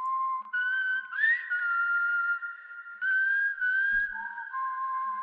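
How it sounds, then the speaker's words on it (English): A synthesized whistle sample built for a hip-hop beat recreating DaBaby's "TOES", filtered and turned down, plays as a steady melodic tone that bends upward, holds long notes and steps down near the end, alone without any talking. "And this gives us our final whistle sample."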